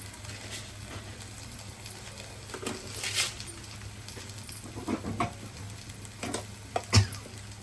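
Broccoli and potatoes with salt and turmeric fry over a medium flame for a masala curry, giving a quiet, steady sizzle broken by occasional soft clicks of stirring in the pan.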